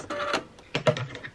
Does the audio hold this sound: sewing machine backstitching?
yes